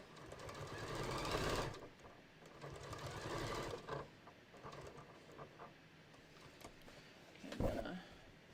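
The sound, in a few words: sewing machine stitching a beach tote strap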